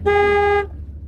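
A car horn gives a single steady toot of about half a second, close and loud, during a driving lesson, then cuts off to quiet road noise.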